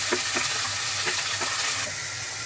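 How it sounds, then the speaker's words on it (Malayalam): Curry leaves, garlic, ginger and onion sizzle steadily in hot oil, loud and close, with a few soft stirring scrapes across the pan. "ശകലം കറിവേപ്പില വെളുത്തുള്ളി ഇഞ്ചി ഒന്ന് ബ്രൗൺ കളർ ആയതിനു ശേഷം നമുക്ക് ചെറിയ ഉള്ളിൽ ഒരു സവാളയും കൂടി അരിഞ്ഞിട്ട് കൊടുക്കും."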